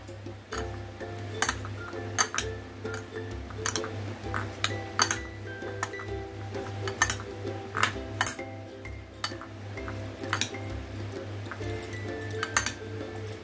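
A spoon repeatedly clinks and taps against a bowl while fruit salad is mixed with salt and lemon juice, bright irregular clinks over a quiet background, close by and continuing without a break.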